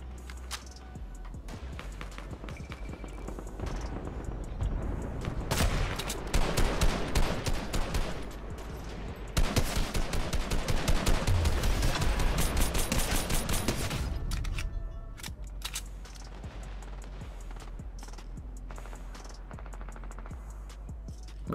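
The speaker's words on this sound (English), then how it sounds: "I'm just melting them with bullets" Fortnite gunfire builds from scattered shots into heavy sustained automatic volleys, loudest in the middle, then thins back to sparse shots over a steady low game rumble.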